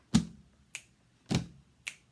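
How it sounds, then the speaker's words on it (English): Four crisp finger snaps, alternating louder and softer, spaced roughly half a second apart, close and clear against a quiet background with no talking. "I'm going to snap because it's easiest for me."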